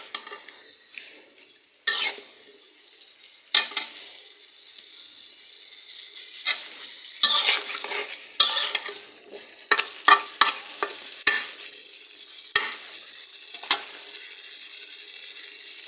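Pointed gourd stirred and sizzling in shrimp masala in a pan, with a steady frying hiss and a run of sharp spoon scrapes and clanks against the pot, loud and close with no talking.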